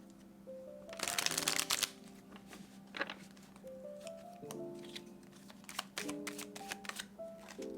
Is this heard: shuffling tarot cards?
yes